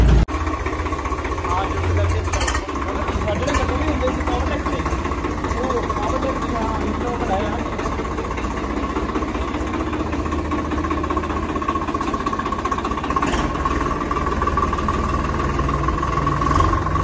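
A new Swaraj tractor's engine idles with a steady, even low rumble and hum throughout, with voices faintly present beneath it.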